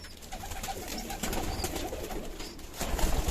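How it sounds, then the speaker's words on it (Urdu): Grey pigeons coo softly in a loft, low murmuring calls repeating under a faint background hum, growing slightly louder near the end. "سلیٹی کبوتر ہیں یہ آپ دیکھ سکتے ہیں"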